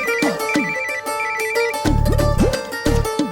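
Mobile phone ringtone rings loudly and repeatedly in a melodic electronic pattern, with no voices over it.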